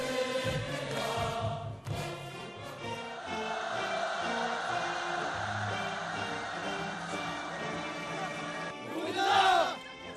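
Large crowd of North Korean youth roaring a loud, sustained chant, with massed voices rising and falling and a sharper swell of shouting near the end.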